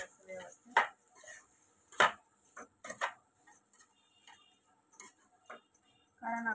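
Spiced potato filling being mashed and turned in a pan on low heat, a series of irregular clacking knocks and scrapes of a utensil against the metal, fairly close, with quiet gaps between strokes.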